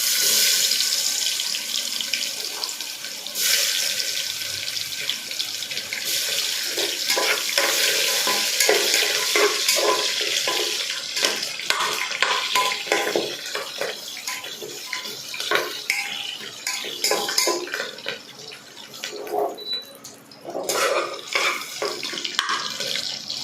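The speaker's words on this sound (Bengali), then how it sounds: "এরপর আমি পেঁয়াজগুলো দিয়ে দেবো।" Onions sizzle in a pan of caramelized sugar with whole garam masala, a loud, continuous frying hiss broken by stirring scrapes and clatter, and no talking.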